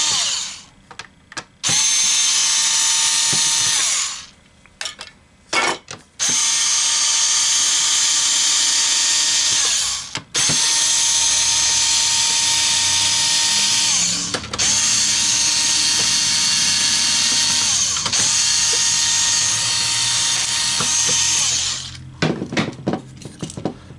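Ryobi cordless power drill driving screws while an MEI bill validator is taken apart, several loud whirring bursts separated by short pauses and clicks, close up with no talking.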